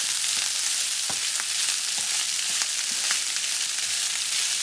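Rice stir-frying in a hot pot: a constant bright sizzle, with occasional soft scrapes and taps of a utensil moving it around, close and steady.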